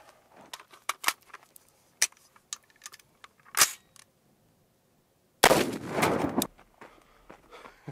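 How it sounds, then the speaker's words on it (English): An AR-15 rifle is fired through a laptop and pistol-rated body armor: scattered sharp clicks and handling clatter lead up to one loud, sudden blast with a brief ringing tail, heard outdoors and close. "what happens if you shoot through a laptop and pistol-rated armor?"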